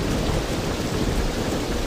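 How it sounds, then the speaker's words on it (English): Steady rain hisses and a low thunderstorm rumbles continuously through a stormy sea scene in the video game Sid Meier's Pirates!, fairly loud with no voices. "Now this storm."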